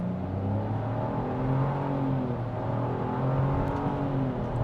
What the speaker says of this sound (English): No brake torque, just off the line, on the gas,